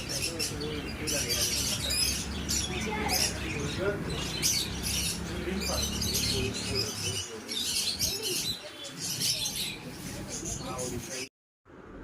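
Many small caged birds chirp and tweet busily and close by at a bird and fish shop, while people talk over the chatter.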